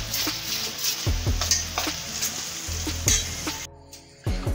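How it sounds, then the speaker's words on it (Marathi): Chana dal bhaji fry in hot oil over a medium gas flame, a close, steady sizzle with occasional stirring clinks and scrapes of a utensil and no voices. "तळून घेऊया। मीडियम गॅसवर तळून घ्यायचं आहे।"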